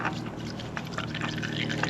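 Engine oil draining from a Kawasaki ZX-10R motorcycle, a steady close pouring trickle of liquid that runs continuously without pause.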